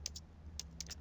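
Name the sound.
typing on a computer keyboard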